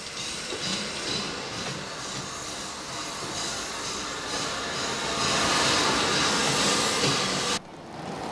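A restored steam locomotive, retired in 1947 and revived by railway enthusiasts, runs along with a continuous hissing, rumbling rail noise that grows slightly louder before cutting off abruptly near the end.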